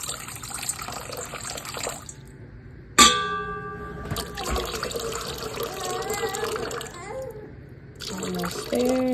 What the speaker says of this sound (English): you just get you a glass of water and pour it directly in